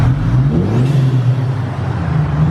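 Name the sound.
Audi A4 with ECS Tuning cold air intake revving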